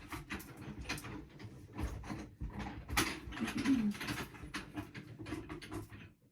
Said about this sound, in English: I then ran it through my platinum, which is my die cutting machine, and it just presses in so nicely.